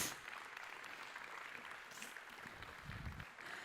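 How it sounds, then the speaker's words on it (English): Faint, steady applause from an audience welcoming a speaker to the stage at a design and construction event, sustained for a few seconds with no voices on top. "please welcome with me Julian Geiger. Welcome to stage. Big applause."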